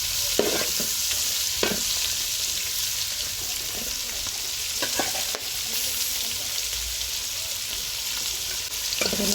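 Prawns fry in a pan with a constant close sizzle, punctuated by scraping and tapping as a spatula turns them, moderately loud, with no voices.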